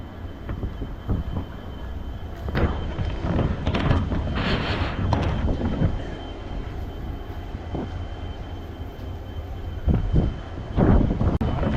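A train pulling out of Mahe station with a goods train standing nearby, giving a low rumbling roll with scattered clanks and knocks that swell and fade over several seconds, heard alone without talk.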